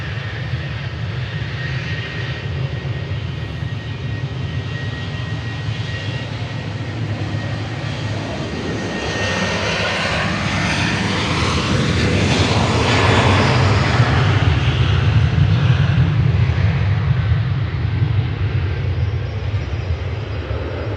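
Jet2 Boeing 737-800 departing Manchester Airport, a loud continuous jet engine roar that swells as the aircraft passes and then slowly eases off, heard alone without talk.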